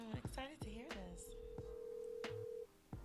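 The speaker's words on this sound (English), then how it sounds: "you better answer this phone." A telephone rings and beeps with tones for a call-in segment on a chat podcast, with people's voices talking and reacting over and around the tones.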